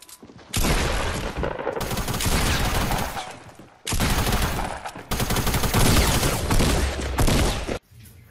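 Two long, loud bursts of sustained gunfire in Fortnite Battle Royale, each lasting a few seconds with a short break between them, dense and close.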